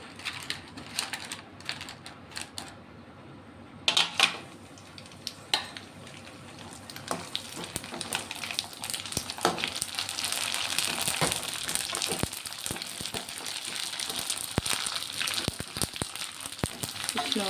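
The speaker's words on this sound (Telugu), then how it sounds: "ఇప్పుడైతే పానీపూరి వేయించుకుందాం" Pani puri frying in about three-quarters of a pot of oil on a stove, a steady bubbling sizzle that swells louder and denser over time, dotted with sharp crackles and pops.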